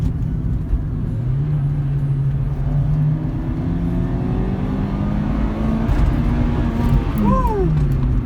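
Toyota Celica GTS pulling hard in second gear, its engine note climbing steadily under constant road and cabin noise, with a brief squeal near the end.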